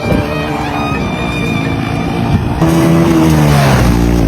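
A loud motorcycle engine roars close by, then the exhaust note rises and sweeps past with a rising whine, no voices over it.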